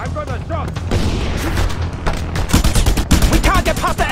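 Rapid gunfire rattles through a Just Cause 2 firefight in repeated close bursts that grow denser and louder toward the end, mixed with in-game shouting.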